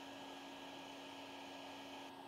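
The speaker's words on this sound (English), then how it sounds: "they're pretty easy to suck up in the vacuum" A vacuum cleaner runs on a yellowjacket nest, sucking up the hornets with a steady, even motor whine and rushing airflow throughout, with no voices.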